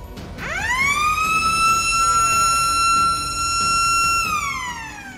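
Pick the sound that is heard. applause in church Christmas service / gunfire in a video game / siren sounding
siren sounding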